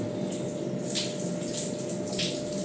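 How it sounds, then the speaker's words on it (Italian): A hotel shower in Reggio Calabria runs steadily, a constant close hiss of spraying water with faint splashing variations, unbroken for the whole stretch and without speech. "Adesso me ne fa una doccia che mi dura una settimana"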